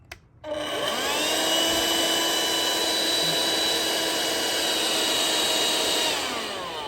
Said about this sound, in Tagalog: So, gumagana po ang vacuum na ito. Ito po ay pwedeng pang vacuum sa loob ng sasakyan.